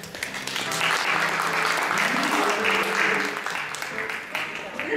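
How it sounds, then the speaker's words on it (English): Audience applauding at a vintage hat fashion show held at a venue with vintage cars, a steady dense wash of clapping sustained for several seconds with voices mixed in. "Let's give them a round of applause."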